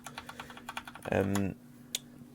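Rapid key presses on an ADX Firefight gaming keyboard, a run of close, crisp clacks followed by a brief burst of louder sound and then a single final click.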